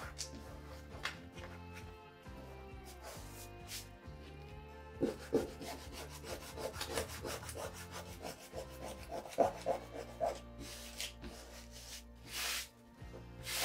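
An eraser rubs a border off a paper craft piece in repeated short scrubbing strokes, quiet and close, with irregular bursts of rasping friction and brief pauses between them.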